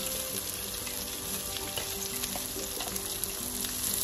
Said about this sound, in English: I have to be stirring all the way through